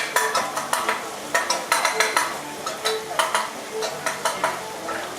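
Onions, curry leaves, mustard seeds and ginger garlic paste frying at a food fair cooking demo, with quick rhythmic clanks of a utensil stirring in the pan over a crackling sizzle, close and busy.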